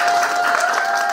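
Audience applause at a Minjung Party Seoul branch meeting during a Q&A session for officer elections, with steady, dense clapping that continues without a break.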